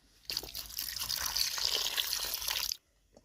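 Duck eggs and potatoes being washed under running water, a steady splashing rush of tap water with small drips that runs for over two seconds and then stops abruptly.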